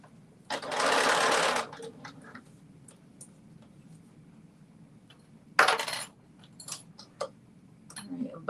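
A sewing machine stitches fabric for a McCalls 8555 garment in two loud, close, steady whirring bursts, separated by quieter clicks and small handling sounds as the fabric is adjusted.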